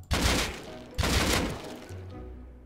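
Two sharp bursts of gunfire in the video game Rust, about a second apart, each trailing off in a short echo, followed by a low steady hum.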